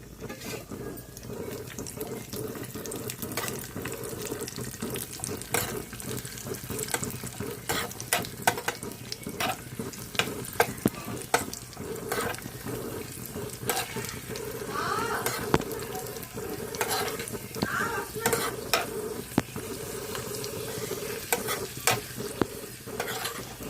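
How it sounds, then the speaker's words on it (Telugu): Cashews and raisins frying in a pan for a sweet rice offering, giving a close, steady sizzle with repeated stirring clinks and scrapes and no talk. "వేగుతుందండి జీడిపప్పు కిస్మిస్ కూడా వేసేసుకుందాము"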